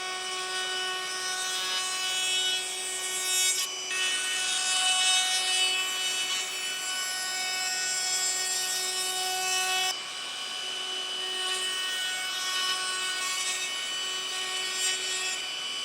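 Wooden edges of a pizza cutter handle being chamfered by hand, a steady continuous rasping and rubbing close up with a short pause partway through, alone without talk.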